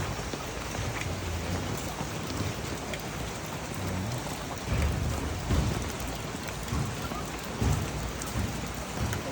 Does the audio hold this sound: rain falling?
yes